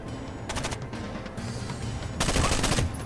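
Gunfire crackles in the video game Rainbow Six Vegas 2: rapid automatic bursts of shots, loud and close, in two or three clusters over a dense background of combat noise.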